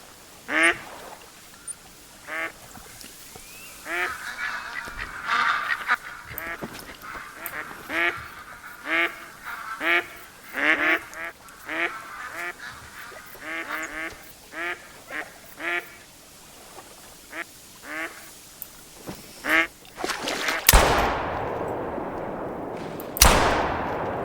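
Ducks quack repeatedly in a duck-hunting video game, in irregular bursts at moderate distance over a steady hiss like rain, ending with a louder rushing noise.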